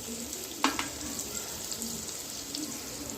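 Onions fry in a handi pot for a spicy goat meat dish, a steady low sizzle under a couple of sharp stirring clinks near the start and faint spoon movements later.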